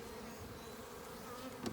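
Honey bees being installed into a hive in spring, a steady close buzzing drone throughout with a faint knock near the end.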